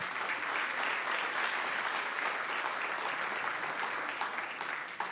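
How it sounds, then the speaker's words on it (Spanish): Steady applause fills a church congregation, broad and continuous for several seconds at moderate distance, with no talking over it. "Vamos a aplaudir."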